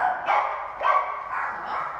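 A dog formerly from a feral pack barks close by, giving three or four sharp, fairly loud barks evenly spaced over a couple of seconds.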